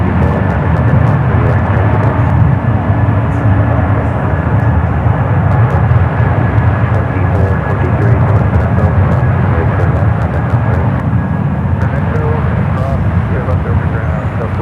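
A JetBlue airliner at San Francisco airport gives off a loud, steady engine roar that holds at a constant level throughout, with people talking over it.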